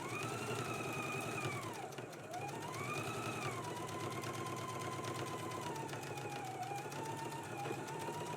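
A sewing machine bastes an overlap to a left facing on a Gunne Sax dress pattern. It keeps up a steady, fast mechanical whir at low volume, and a faint voice with tonal sweeps sits in the background.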